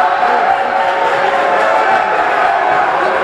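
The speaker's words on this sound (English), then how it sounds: "Crowd noise." Crowd at a high school basketball game, Carlson against Edsel Ford, cheering and roaring in a steady, loud wash of voices with no break from start to end.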